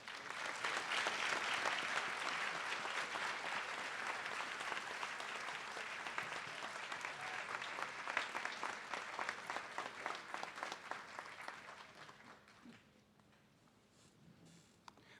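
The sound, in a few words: applause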